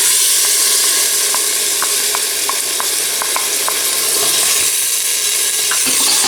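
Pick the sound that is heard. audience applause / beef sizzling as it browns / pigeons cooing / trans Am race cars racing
beef sizzling as it browns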